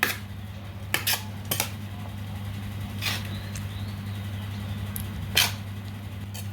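Chana dal mixed with fresh coriander in a pot, with a few distinct spoon knocks and clinks against the metal over a low steady hum, close and sparse.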